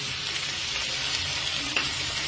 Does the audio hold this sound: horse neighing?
no